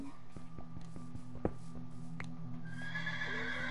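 A horse in Minecraft whinnies with a shaky, drawn-out call over a steady droning background, with soft clopping hooves and a few taps scattered throughout.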